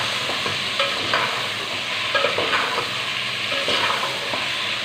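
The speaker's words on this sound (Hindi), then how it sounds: "इसको अच्छे से फ्राई कर लेंगे।" Chicken frying with two chopped tomatoes and green chilies makes a busy sizzle, with repeated scraping and stirring strokes of a spoon in the pan running right through.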